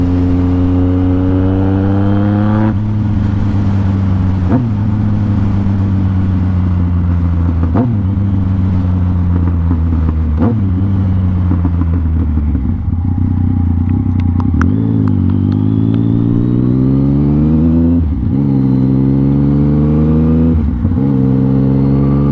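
A motorcycle engine drones loudly and steadily during a ride, its pitch climbing with each gear and then dropping sharply at every shift, five or six times in succession.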